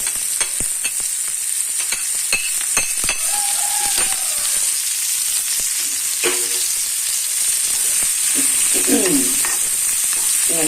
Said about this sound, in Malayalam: നമ്മുടെ സബോളയ്ക്കിട്ട് വഴറ്റണം കേട്ടോ